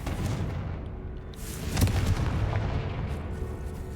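A Confringo explosion spell in Hogwarts Legacy lands with a deep boom about halfway through, followed by rumbling debris over a steady low background, and no talking.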